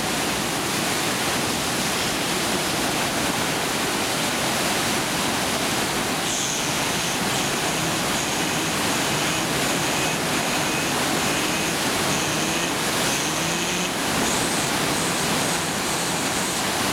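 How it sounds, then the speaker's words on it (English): Water rushes and splashes in a loud, continuous turbulent roar that stays steady throughout with no voices. "Splashes."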